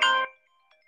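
A phone ringtone for an incoming call cuts in loudly and close as a short bright melodic burst during a discussion, then fades to faint, thin tones.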